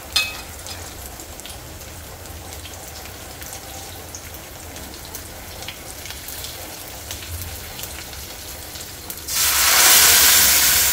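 Hot oil tempering for Gujarati dal dhokli, with red chilli powder and leaves added, gives a steady close hiss of light crackle that swells into a loud burst of sizzling near the end.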